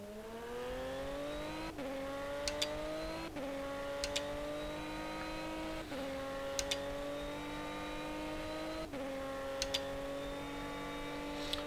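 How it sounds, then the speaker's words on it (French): Race car engine from the rFactor racing game, an SP3 endurance car at Silverstone, revving high and shifting up repeatedly in a steady cycle of rising whines with brief gear-change dips, loud and continuous. "des voitures très bien modélisées avec un bruit toujours fait de manière la plus qualitative possible"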